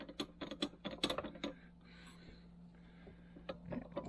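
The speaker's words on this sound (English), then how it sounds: "Let's make a bunch of noise hitting the vise handle on the tripod." Metal vise handle on a tripod vise struck repeatedly while opening it, a run of sharp clanking taps in quick bursts, then a quiet pause with faint hiss before a few more knocks near the end.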